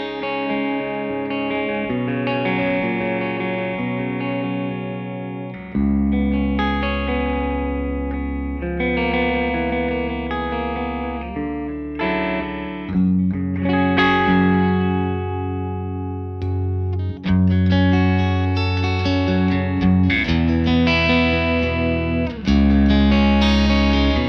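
An electric guitar plays clean chords and arpeggios through a Victory V4 Countess preamp pedal, with ringing sustained notes and a slight chorus-like shimmer, alone without talk.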